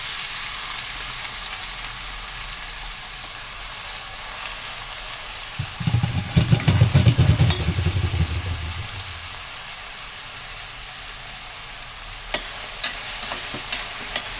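Onions for a chicken samosa stuffing fry and are stirred in a pan, giving a brief loud burst of sizzling and scraping in the middle over a steady low background hum, then quieting with a few faint clicks.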